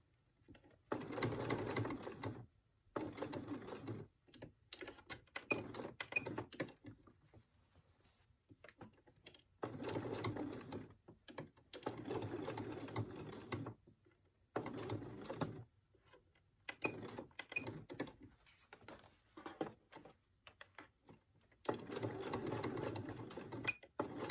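A sewing machine runs in repeated bursts of rapid stitching, each a few seconds long, separated by short quiet pauses, close and fairly soft.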